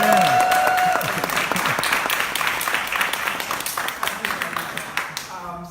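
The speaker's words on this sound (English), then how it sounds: "I would really like applause to that because that was really hard." An audience at a senior thesis presentation at Trinity College breaks into sustained applause, dense and even at first and then thinning into scattered individual claps toward the end, with faint voices underneath.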